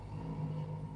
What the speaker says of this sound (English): So you can probably hear a lot of traffic.